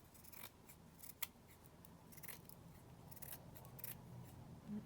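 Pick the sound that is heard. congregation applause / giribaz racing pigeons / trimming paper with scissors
trimming paper with scissors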